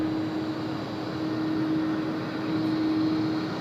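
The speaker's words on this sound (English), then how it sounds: "Can you still hear that Asiana over there? You can hear her idling." Asiana airliner idling at Sydney Airport, a steady droning engine hum with a sustained whine, held at a constant level for the whole stretch, heard from a distance across the apron.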